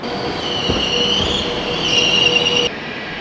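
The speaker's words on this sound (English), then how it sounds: "Oh, here comes the train." A loud train rumbles past close by with high metallic wheel squeal and screeching overtones riding over the roar, sustained before cutting down abruptly near the end.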